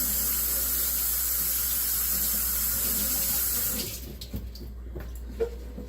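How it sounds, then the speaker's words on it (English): Broccoli rabe rinsed under a running kitchen tap, a steady loud rush of water for about four seconds that stops abruptly, leaving a few faint clinks and drips. "So let's give this a quick rinse."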